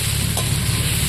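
Vegetables sizzling in a hot pan while being sautéed, a brief steady close hiss with no voices.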